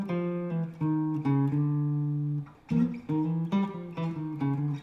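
A clean electric guitar plays a short bebop line of distinct picked notes, climbing with a chromatic approach and then descending, with one held note midway, close and alone.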